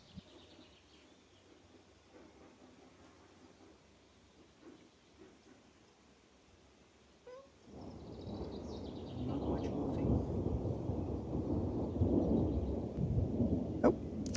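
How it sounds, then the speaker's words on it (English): Thunder from an approaching thunderstorm rolls in outdoors while a poinsettia is planted in a garden. After a quiet start, a deep, distant rumble swells and keeps growing louder through the second half. "Oh, thunderstorm coming."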